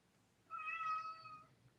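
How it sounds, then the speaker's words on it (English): A house cat gives a single drawn-out, plaintive meow lasting about a second, close and clear against a quiet room. "My cat's crying. Can you hear him?"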